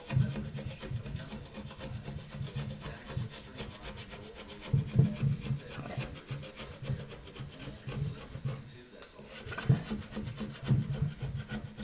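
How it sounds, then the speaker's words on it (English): A hand scraper rasps steadily across the old finish on a wooden end table top, producing continuous close-up rubbing and scraping strokes with a gritty texture. "So I'll continue scraping."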